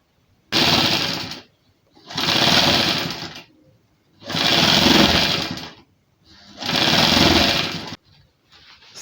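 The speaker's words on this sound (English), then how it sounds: "just go ahead and sew the outer edge" A sewing machine stitches the outer edge of a fabric spiral flounce for a neckline design, running in four loud, steady bursts of about one and a half seconds each, separated by short pauses.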